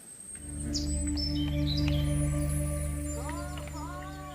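Chirping bird in the Lost Chronicles game, a few quick bright tweets and upward-sweeping calls over a steady low tonal drone, with no talking.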